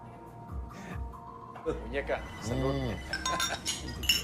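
Glasses clink together in a toast over palm wine, several bright chinks rising over steady talk and background music.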